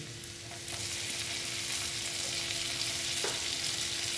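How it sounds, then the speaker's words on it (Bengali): Chopped tomato drops onto half-fried onions in a hot pan, and the frying swells into a steady, close sizzle after the first second and keeps going without speech. "এখন আমি এখানে দিয়ে দিব টমেটো কুচি"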